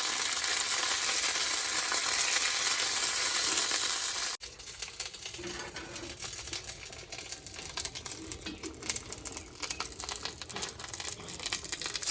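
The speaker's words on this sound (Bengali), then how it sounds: "এই সাইডে কড়াইটা ফাঁকাই যাচ্ছে যেহেতু এই সাইডে মশলাটা ভেজে নিই" Masala spices fry in a wok on one side of the pan before going into dal, giving a steady crackling sizzle that cuts off sharply, then continues as softer, busier sputtering and stirring close by.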